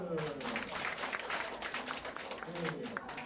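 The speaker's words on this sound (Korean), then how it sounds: "자, 박수" Applause from a group of older adults at a dementia-prevention exercise session, a light patter of clapping throughout with voices talking over it.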